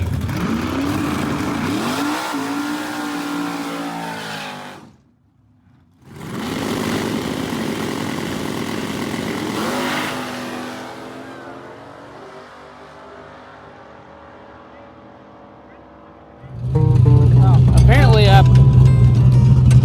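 An all-motor bracket racing car at a drag strip benefit race, its engine revving hard and rising in pitch, cutting off briefly, then roaring again before fading into the distance, followed by a sudden loud close-up engine roar.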